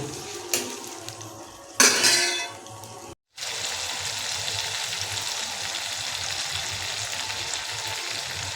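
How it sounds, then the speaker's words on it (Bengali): Tomato and chopped green chili masala frying in a pan for a vegetarian soybean curry: brief clatter and a burst of stirring, a short silence, then a steady, moderate sizzle to the end. "টমেটো আর কাঁচা লঙ্কা কুচিকে আমরা মিনিট পাঁচেক ধরে কষাতে থাকব"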